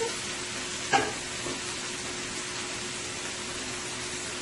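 Potatoes sizzle steadily in a hot frying pan, a constant soft crackling hiss with a single clink early on.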